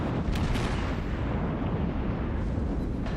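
Battleship gunfire in the World of Warships naval combat game: a heavy, booming salvo with rumbling low end, a couple of sharp cracks at the start, then a sustained roar of blasts, loud and close, with no talk.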